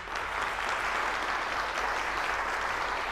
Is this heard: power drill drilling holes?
no